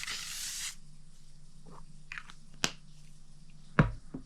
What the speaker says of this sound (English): So I just spray some of that on.